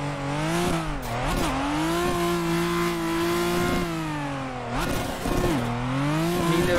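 Engine of a cream Nissan 240 drift car in the Assetto Corsa racing game, held at high revs with rising and falling pitch as it blips and shifts, with brief tire scrapes and no talk.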